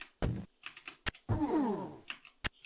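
Several sharp computer keyboard key presses come in quick, uneven bursts during play of Chaos Strikes Back on an Atari ST. A short voiced sound sits between the taps, and the room is otherwise quiet.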